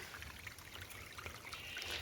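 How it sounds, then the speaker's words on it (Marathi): A stream gurgles and flows in a steady, faint babble of trickling water with small splashy bursts, continuous throughout and free of any voices. "पाण्यांचा खळखळ खळखळ आवाज इथं"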